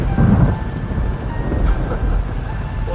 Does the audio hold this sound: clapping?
no